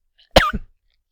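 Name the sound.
coughing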